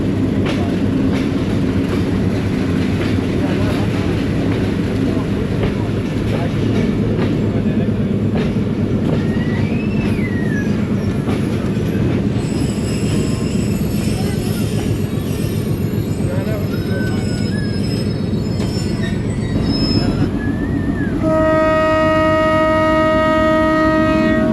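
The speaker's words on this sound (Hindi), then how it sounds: "हरिपुर हज़ारा रेलवे स्टेशन से मूव हो गई है 267 अब रावलपिंडी पैसेंजर" The Rawalpindi Passenger train pulls out of Haripur Hazara railway station in the hills of Pakistan. It gives a loud, continuous rolling rumble with scattered high wheel squeals, and sustained horn tones sound near the end.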